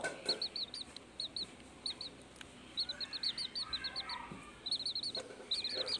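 Bantam chicks cheep in repeated bursts of high, thin peeps, close and fairly clear over a faint indoor background with no talking.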